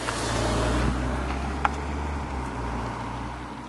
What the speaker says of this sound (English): Cars are noisy